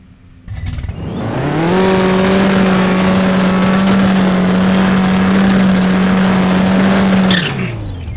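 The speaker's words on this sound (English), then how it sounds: "So we racing Wiley Gator" A drag race car in the No Limit Drag Racing 2.0 game, a Camaro on 26-inch wheels, launches and holds a loud, steady high-revving engine drone for about six seconds before cutting off abruptly.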